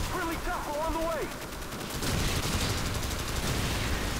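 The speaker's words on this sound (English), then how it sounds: "I don't know what I'm shooting at or throwing stun grenades at" Gunfire and stun grenade blasts in the video game Call of Duty 4 on the Bog map, dense continuous shooting filling the clip, with a rising electronic whine early on before the noise swells louder.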